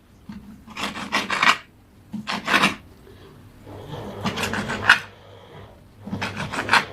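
A knife cuts boiled beef lung (offal) into thin slices, giving rough, rasping strokes in short bursts of a second or so with brief pauses between, fairly close and clear, with no talking.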